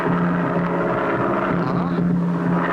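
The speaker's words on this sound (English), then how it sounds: "I hear it. It's a plane." A steady droning engine hum with a low tonal whine, continuous and fairly loud throughout, like a propeller plane passing nearby.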